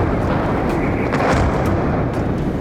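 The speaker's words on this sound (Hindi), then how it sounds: "यूक्रेन की एक मिसाइल पोलैंड की तरफ दागी गई। धमाका लवीव के करीब।" A deep, continuous roar of blasting and rumbling sounds from a missile explosion near Lviv, loud and sustained throughout with no distinct separate bursts and no talking.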